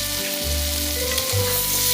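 Sea fish fries in spiced oil in a pan, giving a continuous close sizzle layered over a low steady hum, with no voices.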